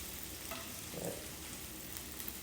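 Onions for a Vidalia onion dip fry in a pan with a steady, soft, hissing sizzle, faint and continuous throughout, heard alone.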